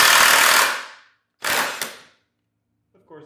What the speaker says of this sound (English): let's see if this impact has enough to break 200 foot-pounds loose